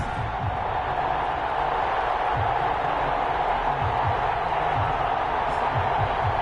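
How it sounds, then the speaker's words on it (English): A stadium crowd at a Buffalo Bills versus New England Patriots NFL game in a football video game keeps up a steady, dense roar of cheering, loud throughout and without pause. "This crowd is ready as their guys get set to match up between the Buffalo Bills"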